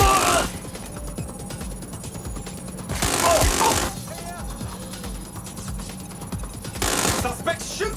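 Bursts of gunfire in Watch Dogs Legion, two or three loud volleys separated by quieter stretches of distant shots and background ambience, with voices talking over the action.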